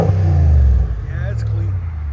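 A 2024 Ram 2500 HD pickup with a 6.4-liter Hemi V8 gives a loud, close, deep exhaust rumble that swells briefly and then settles into a steady idle drone.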